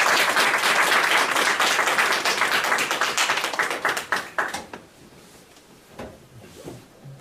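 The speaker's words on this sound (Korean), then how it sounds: "함께 같이 목사님을 박수로 모시겠습니다." A church congregation applauds to welcome the pastor before a sermon. The dense, loud clapping slowly thins out, and a few scattered claps and soft room noise remain at the end.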